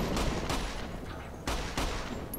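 Gunfire in the video game Fallout New Vegas Dead Money, sounding as loud, close bursts of rapid shots that come in several heavy waves with brief gaps between them.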